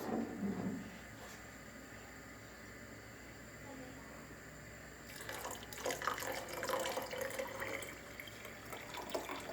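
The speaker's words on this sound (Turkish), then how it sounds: "Ve şimdi suyumuzu döküyoruz." Water pours into a container while pomegranate vinegar is made, a soft, faint splashing that grows louder and more turbulent partway through, with faint voices in the background.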